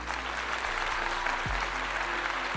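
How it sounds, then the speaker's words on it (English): A burst of crowd applause, thick and steady clapping from many people, rolling on at an even level with a faint low tonal hum running beneath it. "Let me give you a clap"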